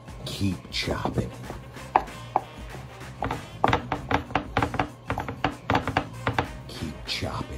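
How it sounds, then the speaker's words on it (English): A knife chops rotisserie chicken repeatedly on a cutting board in quick, uneven strokes, close by, while a person talks over the rhythmic thuds. "Keep chopping the chicken."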